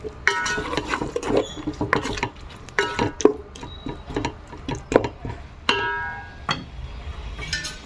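A spoon scrapes and clinks against a pot while mushroom biryani mixture with tomato and salt is stirred, giving irregular close metallic knocks and scrapes.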